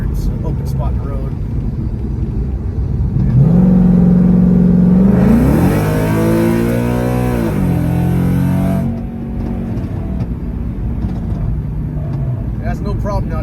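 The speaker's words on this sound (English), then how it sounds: "It has no problem now downshifting and getting through the gears" A Circle D 5c-equipped car accelerates on an open road, its engine note rising then stepping down as it shifts through the gears, loud and close, with someone talking over the start and end.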